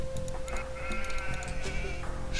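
Sheep bleating in the video game Age of Empires 2 (HD edition, The Forgotten, 4v4 Black Forest map), with short bleats over a busy bed of game sounds and chimes, fairly loud throughout.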